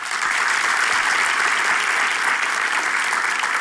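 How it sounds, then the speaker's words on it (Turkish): A studio audience on a Turkish comedy show applauds steadily and loudly, with dense clapping that stays even throughout and no talking over it. "Sağda alkışlarla gönder yerine."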